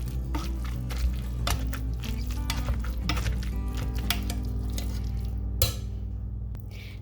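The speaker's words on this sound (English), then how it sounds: "now I'm just going to mash them up" Strained boiled food being mashed in a metal pot: steady scraping and rhythmic clinking of the masher against the pot, with a few sharper knocks, close up and with no talking.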